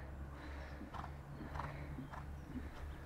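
A ridden horse's hooves clop over ground poles during a jumping schooling session, a few soft, evenly spaced footfalls heard faintly at a distance beneath low steady background noise.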